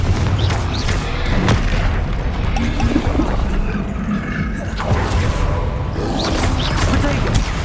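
Spell explosions from the Confringo fireball in the Hogwarts Legacy video game go off as booming blasts over a continuous dense mix of combat effects and rumble, with no speech.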